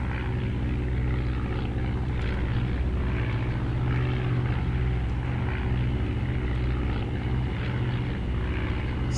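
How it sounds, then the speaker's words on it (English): Sopwith triplanes and Albatros D.II biplanes from 1917 fly over the Western Front in a flight sim, their propeller engines droning steadily and loudly throughout, a continuous close hum with slight wavering and no talk. "Yep, looks like we're going up against some Sopwith triplanes and our crappy old D2s."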